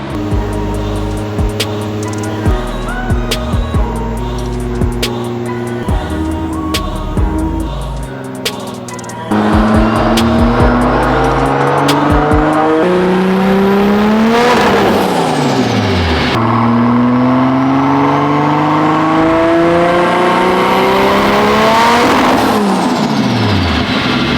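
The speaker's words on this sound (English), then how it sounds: "So Lloyd has had the car on the dyno." A car engine revving hard on a dyno, loud and close, pitch climbing in long sweeps through the gears, then dropping and building again.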